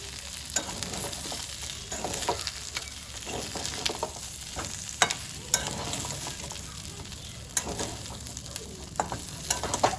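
Grated coconut frying on a slow flame for a chicken fry, with a steady soft sizzle broken by repeated scrape-and-stir strokes of a spatula in the pan throughout.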